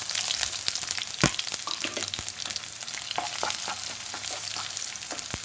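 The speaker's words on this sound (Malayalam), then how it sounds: "അതൊന്ന് വഴന്ന് വരുമ്പോഴേക്ക് നമുക്ക് അരിഞ്ഞു വെച്ചിട്ട് സവാള ഇട്ട് കൊടുക്കാം." Chopped onions sauté in a pan for a vegetable stew, giving a steady moderate sizzle broken by sharp clicks and taps of a spoon stirring against the pan.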